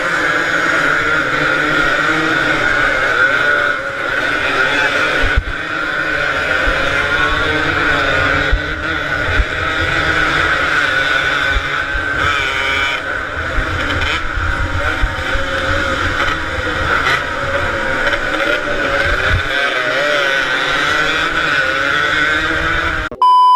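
A two-stroke motorcycle engine runs loud and close with a buzzy, sustained drone that rises and falls slightly in revs, roughened by wind noise on the microphone.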